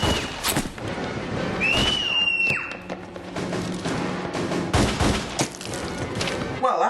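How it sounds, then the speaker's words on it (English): Rapid movie gunfight gunfire erupts inside a packed public library, with dense bursts of shots and sharp cracks over a constant loud din, plus a brief rising whine of a ricochet. "Seagal starts a gunfight with the CIA in the middle of a packed public library"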